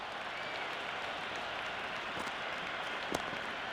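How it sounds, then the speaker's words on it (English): Stadium crowd in the Cricket 26 video game roaring and applauding during a T20 match, a dense, continuous wash of cheering that holds steady throughout. "It's almost palpable, the excitement emanating from this crowd at the moment."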